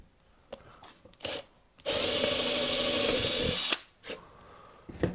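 A power drill boring a hole through pallet wood for a wooden clock project, a few short clunks and then a steady loud whir of about two seconds, close up, followed by handling knocks.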